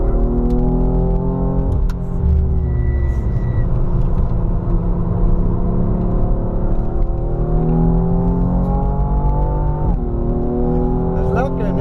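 A Porsche ring taxi engine revs hard around the Nürburgring, rising harmonic tones climbing through the gears with shift breaks near two and ten seconds, loud and close inside the cabin, with people talking over it.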